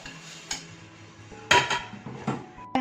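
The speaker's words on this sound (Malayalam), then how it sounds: "ആ സമയം കൊണ്ട് ഞാൻ ഈ പാത്രമൊക്കെ ഒന്ന് കഴുകി കഴിയട്ടെ കേട്ടോ." Pots and dishes being washed in a home kitchen: several sharp metallic clanks and knocks of vessels against each other at uneven intervals, close and clear, with quieter scraping in between.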